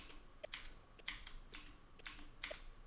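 Computer keyboard arrow keys are tapped about eight times in uneven, sparse clicks, quiet and close, with a faint room hiss between presses.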